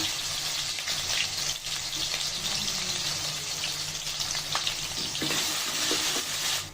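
A paste masala of garlic, ginger and cumin fries in a pan with a continuous hiss and sizzle, accompanied by a few clinks and scrapes from stirring, close and steady, with no talking.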